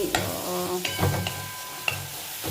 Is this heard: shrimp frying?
yes